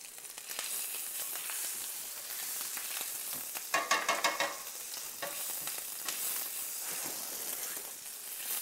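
Ginger and paprika sizzle in a hot pan with a steady, moderately quiet frying hiss, and a brief burst of stirring scrapes comes midway through.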